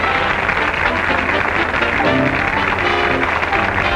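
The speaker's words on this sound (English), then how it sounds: "Listen to that applause, huh?" Audience applause in a 1939 stage-show setting, a dense, steady wash of many hands clapping at even loudness for the whole span, with no voices rising above it.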